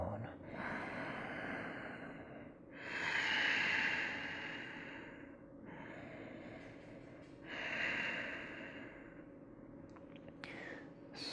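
Slow, deep breaths during a gentle yoga twist, audible as two long, airy exhales a few seconds apart, close and fairly soft over a steady background hiss.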